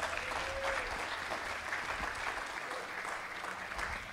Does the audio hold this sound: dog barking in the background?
no